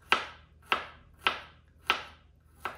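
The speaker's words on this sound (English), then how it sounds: "I'm gonna chop up 2 more garlics" A knife chops garlic on a board in five evenly spaced, crisp strikes, close and fairly quiet, with no voices.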